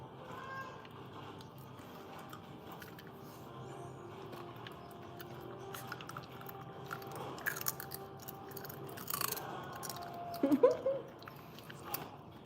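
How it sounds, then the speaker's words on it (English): A dog crunches on dried fish treats, with repeated crisp bites and chewing close to the microphone, growing louder near the end, under quiet background sound. "Dog eating ASMR."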